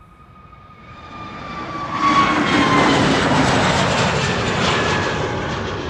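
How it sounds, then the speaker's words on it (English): A KLM Airbus A321neo at Amsterdam Schiphol swells from a faint whining approach into a loud, close jet roar within two seconds, then holds steady with a slight fade at the end; no talk. "This is KLM Flight 1955 to Athens. An A321neo."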